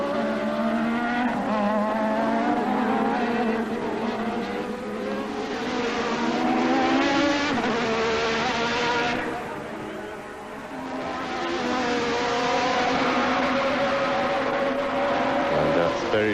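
Formula One race cars roar around the Mexican Grand Prix circuit, engines droning and shifting pitch as they pass, heard steadily beneath continuous commentary.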